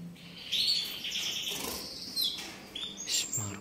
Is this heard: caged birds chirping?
yes